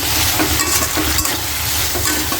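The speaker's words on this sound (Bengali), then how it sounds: "অনেকটা নাড়াচাড়া দিয়ে নেই" Crab and potato bhaji being stirred in a frying pan, a loud continuous sizzle with scraping spoon strokes, close and steady with no voices.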